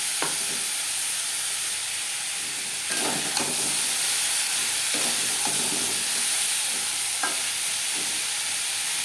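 Stalks being stirred and fried with salt and turmeric in a pan for a coconut stalk fry, with a steady sizzle and several clear scrapes of a utensil spread throughout, close and without speech.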